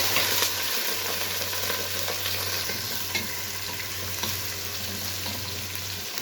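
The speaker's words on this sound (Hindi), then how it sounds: "अब हम इसमें चिकन डाल देंगे और चिकन को अच्छी तरह से फ्राई करेंगे।" Chicken pieces frying with light-browned onions in a hot pan, a loud continuous close sizzle with a low steady hum underneath and occasional stirring, no talk.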